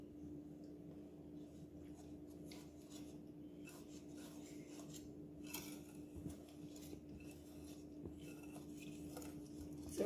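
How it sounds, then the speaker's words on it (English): Dry scone ingredients are whisked together in a bowl for blueberry scones, with quiet, continuous scraping and rubbing strokes of a whisk against the bowl over a low steady hum. "You can use your whisk"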